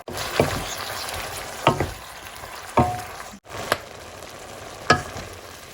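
Shrimp sizzle as they are stir-fried with kale in a pan, steady frying hiss broken by periodic scraping stirs and clanks, close and moderately loud.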